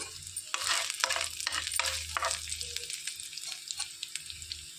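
Ghee tempering with spice seeds, crushed garlic, a dry red chilli and curry leaves sizzles in a pan, with bursts of crackling and stirring scrapes close up that ease into a quieter spitting sizzle.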